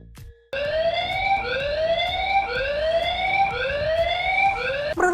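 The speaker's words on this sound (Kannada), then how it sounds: "ಇದು ಯಾವ ರೀತಿಯೆಲ್ಲ ಸೈರನ್ ಮಾಡುತ್ತೆ ಅನ್ನೋದನ್ನು ಕೂಡ ನಾನೀಗ ತೋರಿಸ್ಕೊಡ್ತೀನಿ" A security camera's motion-alarm siren blares up close, one loud rising electronic whoop after another, about five sweeps after a brief quiet start, with no talk.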